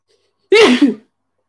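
A single sharp sneeze, loud and close, bursting out abruptly from silence and ending quickly.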